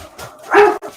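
A pet dog lets out a single loud, close bark edged with a whimpering whine, reacting as if someone is at the door.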